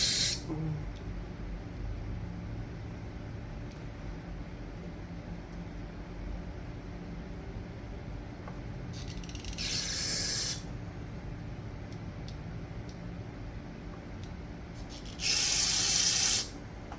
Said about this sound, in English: So you want to spray out every single one of these holes.